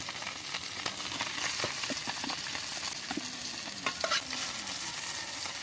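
Steady, dense sizzle of fish frying in a hot pan, with a few scraping stirs partway through; no talking.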